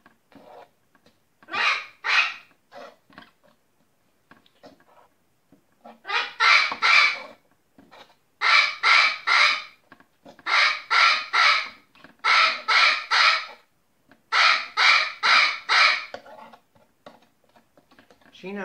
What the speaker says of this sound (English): Sheena, the noisy parrot, is an adopted bird, a rescue, really.